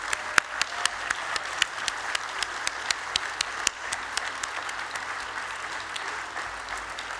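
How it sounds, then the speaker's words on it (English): An audience at a Technion honorary fellowship ceremony applauds the new fellows. The clapping is steady and moderately distant, with a few sharper, closer claps standing out at irregular intervals. "Please join me in applauding them."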